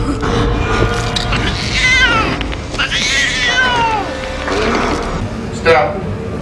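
A cat meows and caterwauls in several drawn-out, wavering cries over a busy, noisy background, with people talking on a film set behind the scenes.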